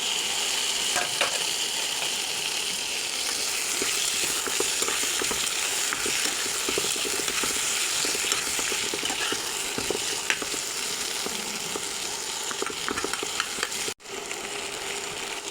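Potatoes and tomatoes fry in a covered pan, giving a steady, dense sizzle that runs close and even throughout, with a few faint scraping clicks and a brief dip near the end.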